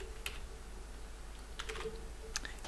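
Light keystrokes on a computer keyboard as a username is entered, a few scattered clicks early on, then a quick cluster of taps and a final couple of presses, close and fairly quiet over a low steady hum.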